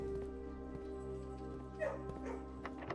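A dog in the video game Blue Prince gives short yips and whimpering barks as it is petted, small soft bursts over a steady game music bed.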